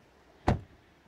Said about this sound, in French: Fermeture des portes très solide.